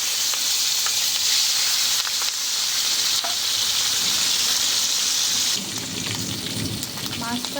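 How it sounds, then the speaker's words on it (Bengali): Two fish, from a bata fish recipe, dropped into hot refined oil in a wok, setting off loud, continuous close sizzling and crackling with no talk. "তেল গরম হয়ে গেছে, এবার আমি কড়াইতে মাছ দুটো ছেড়ে দেবো।"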